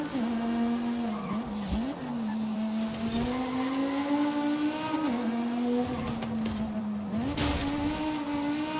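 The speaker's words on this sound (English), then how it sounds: "The sound of that V10 as well" A V10 super saloon race car engine in a racing video game roars continuously and loudly, its pitch rising and dipping through gear shifts and corners, with brief tire skids.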